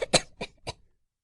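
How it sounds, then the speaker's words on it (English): A man coughs violently after drinking whiskey, three sharp harsh bursts close up in quick succession, then silence. "Drinks and coughs violently."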